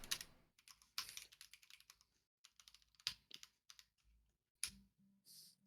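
Computer keyboard typing during a fantasy video game draft podcast: quick, close bursts of clicking keystrokes broken by short pauses, with a few louder taps near the end.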